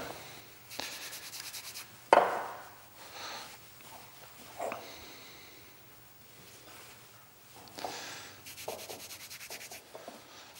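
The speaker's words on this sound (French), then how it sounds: "c'est de bien mélanger le beurre avec les autres éléments" Butter being worked by hand into shortbread (sablé) dough, heard as soft, close rubbing and pressing sounds in irregular bursts with quiet pauses between them, fairly faint and with no talking.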